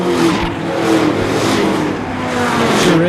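Sport trucks race around Seekonk Speedway, a loud, continuous roar of engines passing nearby and blending together with rising and falling pitch as they rush by.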